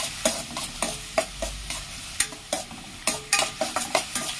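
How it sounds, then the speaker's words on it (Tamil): Onions sauté in a pan for Chettinad crab masala, with a soft sizzle under quick, rhythmic scraping strokes of a spatula, about a dozen sharp stirs, close and clear. "வெங்காயம் வதக்கட்டும்."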